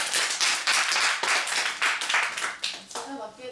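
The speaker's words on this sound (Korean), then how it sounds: "박수!" An audience at a student ultrasound workshop claps steadily for several seconds, a dense burst of many hands nearby that thins out and fades toward the end.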